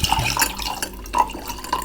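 Water poured into a glass of strong alcohol to dilute it, making a short, close splashing gurgle with a few bright drips.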